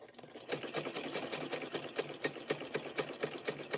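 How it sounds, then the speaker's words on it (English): A sewing machine stitches fabric-wrapped clothesline rope, running close with a steady, rapid mechanical whir and a regular pulse of needle strokes. "Do you know how to work the sewing machine?"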